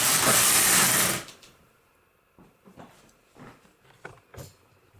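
An LK150 knitting machine knits a row: a loud, close rushing slide of the carriage across the needle bed for about a second, then stops, followed by scattered soft clicks and knocks.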